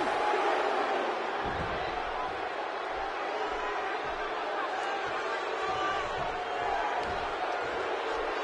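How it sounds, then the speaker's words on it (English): A virtual arena crowd buzzes in the WWE 2K17 wrestling game, a constant dense roar with scattered shouts, while commentary voices talk over it. "The crowd is buzzing."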